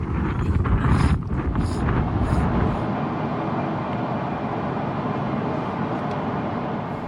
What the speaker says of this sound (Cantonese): 勁大風